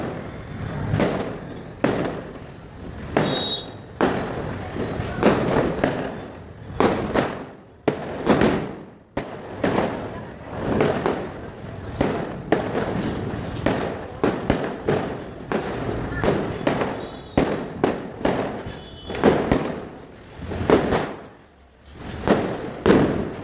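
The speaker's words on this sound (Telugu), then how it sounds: "ఇవైతే ప్యాకెట్ బాంబ్స్ ఉంటారు కదా, ప్యాకెట్ బాంబ్స్ సౌండ్ అయితే చాలా బాగా వస్తుంది." Packet bomb firecrackers bursting during Diwali, a long run of sharp cracks and thuds at uneven intervals, some overlapping, close and loud, with voices mixed in underneath.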